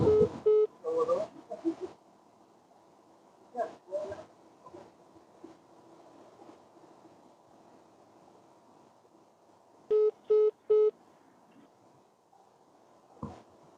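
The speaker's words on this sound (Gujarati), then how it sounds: "કાનજી ફોન ઉપાડતો નથી." A phone call rings out unanswered, with a few short electronic ringback tones in bursts separated by long gaps of quiet line hiss.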